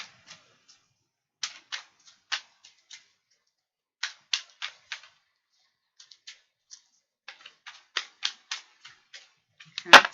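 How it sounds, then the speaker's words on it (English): A deck of tarot cards is shuffled in quick bursts of sharp, close riffling clicks separated by short pauses, ending in a louder rustle. "Just going to keep shuffling, make sure I give it a good old shuffle."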